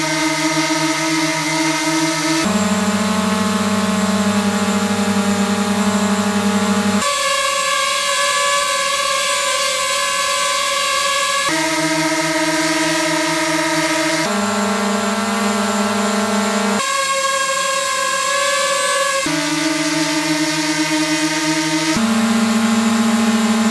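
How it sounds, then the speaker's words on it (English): DJI FPV drone in flight, a loud, screechy whine of fast-spinning propellers that holds steady and shifts pitch in distinct steps every few seconds, heard alone without talk. "it is a freaking loud, screechy drone"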